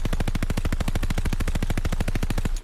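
Rapid, steady automatic fire from a DP-27 light machine gun in Call of Duty: Vanguard, a loud, evenly spaced burst of roughly two dozen shots that runs unbroken for over two seconds before cutting off.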